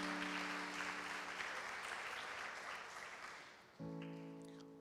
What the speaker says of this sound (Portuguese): Aplauda Ele mais uma vez nesta noite